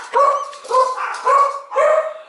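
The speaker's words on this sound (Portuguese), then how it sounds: "Vocês ouviram as cachorras, né?" Several small dogs barking indoors, four loud, evenly spaced yapping bursts close by, with no talk over them.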